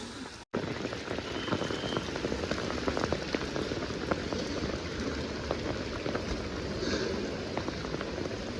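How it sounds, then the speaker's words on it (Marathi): Heavy monsoon rain near Pune pours steadily, a dense hiss of drops drumming on surfaces, constant and loud with no voices. "अतिशय जोरदार पाऊस सुरू आहे, हे तुम्ही बघू शकता."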